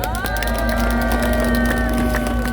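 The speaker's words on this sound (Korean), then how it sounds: "이럴 때는 박수 한번 쳐주십시오." Crowd at a political rally claps and cheers, with sustained voices and shouts ringing over a continuous bed of clapping and crowd noise.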